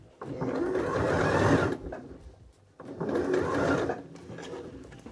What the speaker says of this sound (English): So I am just going to keep folding this sleeve and sewing as far as I can along here.